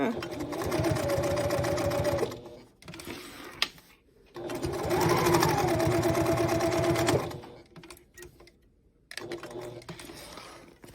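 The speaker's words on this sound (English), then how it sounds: "I'm gonna hit the needle down feature, which is kind of great when you're doing this kind of label sewing" A sewing machine stitches a label onto a fabric bag in two long runs and a short final burst, whirring close and steady. A voice talks at times between the runs.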